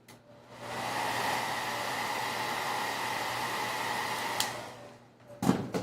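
A blow dryer drying red paint laid over green on a stenciled Christmas painting, a steady loud whooshing hum running for several seconds before cutting off, followed by a few brief clicks.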